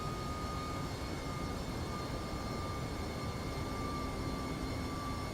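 Steady, even jet-engine roar of a simulated MD-11 airliner at Dublin Airport, a constant dense drone with a few faint tonal whines riding on top, no voices present.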